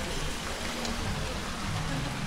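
Steady, dense rain pours down around an outdoor cafe in Bali, a continuous close hiss of drops on surfaces with low murmuring voices underneath.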